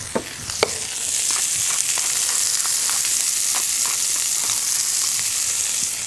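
A salt-and-pepper-seasoned burger patty sears in a pan with a loud, dense, continuous sizzle that starts after a couple of clinks and carries on evenly, with no talking.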